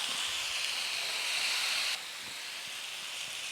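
Chicken stir-frying in a pan with soy sauce and garlic, a steady broad sizzling hiss that drops slightly in level partway through, with no voices.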